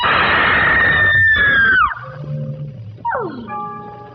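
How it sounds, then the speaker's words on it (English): A woman's shrill, nasty scream from a 1950s-era horror persona, loud and close, starting with a sustained high wail and sliding down into a strangled drop, then a second rising shriek that breaks into wavering, sobbing tones. "Screaming really nasty"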